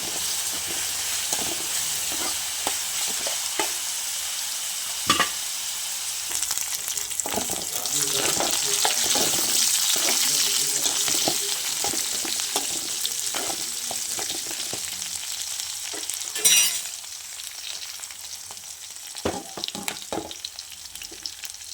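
Curry leaves crackle and sizzle loudly in hot frying oil for a brinjal tomato curry, a dense continuous hiss with sharp pops and a few utensil scrapes, close and steady, with no talking.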